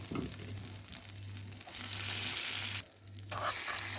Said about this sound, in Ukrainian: Потрібно, щоб цукор повністю розтанув. Це ми готуємо карамель.